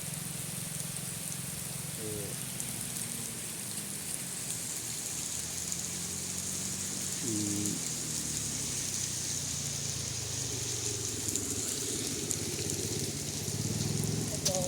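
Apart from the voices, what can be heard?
heavy rain falling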